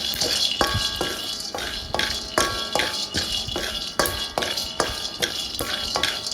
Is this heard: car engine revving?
no